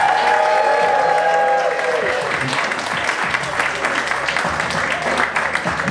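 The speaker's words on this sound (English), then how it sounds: "Make a lot of noise right now for the very funny Greg Behrens" A comedy club audience applauds and cheers loudly and continuously, a dense wash of clapping filling the room with some whoops, as a comedian is brought to the stage.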